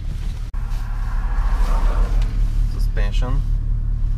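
A BMW 745i E65 with an exhaust cut-off valve fitted rumbles deeply and steadily while being driven in sport mode on a wet urban road, under a voice talking.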